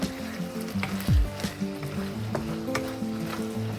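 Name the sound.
stirring and mixing pasta alla Norma in a pan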